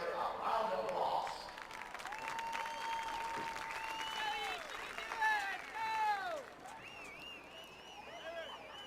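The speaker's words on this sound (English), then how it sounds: "Let's give her a round of applause." Crowd in a high school football stadium applauding a graduating student, broad distant clapping and cheering mixed with an announcer's voice over the stadium speakers, plus whistles and tonal calls drifting through.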